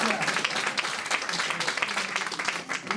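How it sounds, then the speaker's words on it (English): An audience at a Ward 5 Democrats meeting applauds, a short burst of mixed clapping and crowd noise with some voices blended in underneath. "Let's give yourselves a round of applause for being awesome Ward 5"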